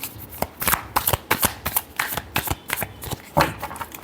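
A deck of tarot cards is shuffled by hand close up: a quick run of crisp riffling slaps and flutters in an uneven rhythm, with no voice.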